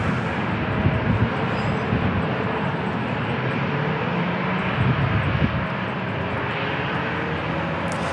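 An Airbus A321neo or A320neo jet at San Diego International Airport, producing a loud, sustained engine roar that stays steady and close with slight surges.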